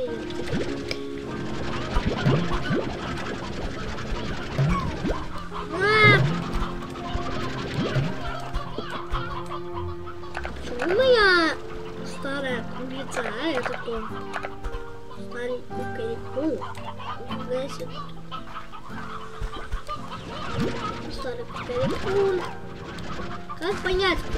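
Chickens clucking and squawking in the Slime Rancher 2 video game, scattered calls at a middling level mixed with goose-like honks, under frequent talking.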